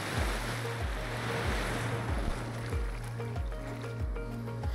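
Sea waves wash onto Koka beach in Flores, a continuous broadband roar of surf with wind buffeting the microphone and a steady low motor drone pulsing underneath.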